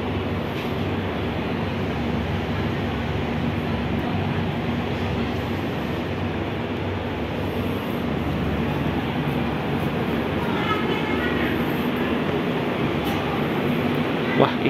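Inside a carriage of the KA Banyubiru passenger train, the steady low rumble and rolling hum of the running train fill the space, with faint higher rattles late on; constant and moderately loud.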